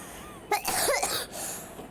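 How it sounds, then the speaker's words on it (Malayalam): A person coughs sharply a few times in quick succession, close and loud, over quiet room background, with no speech. "ഭയങ്കര ചുമ"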